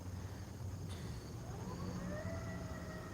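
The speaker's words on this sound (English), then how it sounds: "You hear that fire engine?" A fire engine siren wails far off, its faint rising and falling tone drifting over steady low background rumble, with a brief sharp click partway through.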